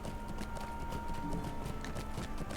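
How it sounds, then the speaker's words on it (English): A horse's hooves clip-clop steadily in the Lord of the Rings Online video game as it rides toward the Shire, with an even trotting rhythm over a constant background hum. "I think I'm just gonna ride my horse to the Shire and yap."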